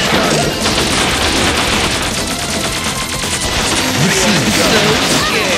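A spread gun in the action game Bot Vice fires rapid, dense volleys that crackle and crash continuously, loud and close, with brief synthetic tones mixed in.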